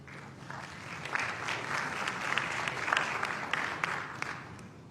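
Steady audience applause greets moderator Terri Wilder as she walks onto the stage at a group discussion event, a dense wash of many hands clapping at even loudness throughout with no voices on top.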